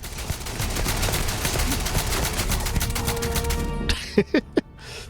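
Sniper rifle fire in the video game Starfield: a dense run of rapid, sharp shots, then a few separate loud cracks near the end, close and punchy.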